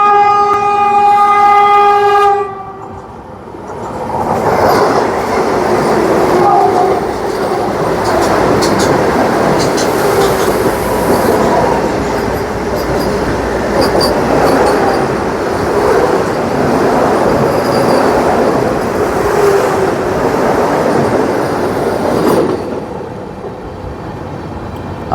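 The Vande Bharat Express from Agra Cantt to Varanasi sounds a long horn, then thunders past close by with a steady roar of wheels and carriages for some twenty seconds before fading.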